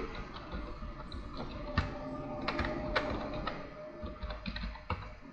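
A computer keyboard clatters under steady typing, a brisk run of close, distinct key taps with a few louder strokes, and no voices.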